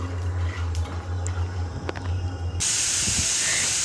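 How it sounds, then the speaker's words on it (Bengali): A pressure cooker holding kabuli chickpeas releases steam partway through: a sudden loud, sustained hiss that starts abruptly and continues to the end, after quieter kitchen clatter. "এইখানে সিটি পড়ে গেছে প্রেসার কুকারে"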